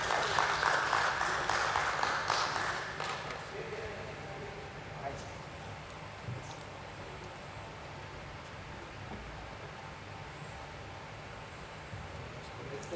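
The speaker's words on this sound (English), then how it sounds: "Let's welcome him with a round of applause," Audience applause in a hall at a stock exchange listing ceremony for a steel company, a loud burst of clapping for the first few seconds that fades into quiet room noise.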